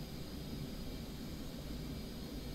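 Jet engine of an F/A-18C Hornet in the DCS flight simulator, a dense steady roar filling the whole clip as thrust is pushed up, loud and continuous with no voices.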